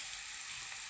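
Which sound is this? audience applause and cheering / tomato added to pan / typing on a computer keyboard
tomato added to pan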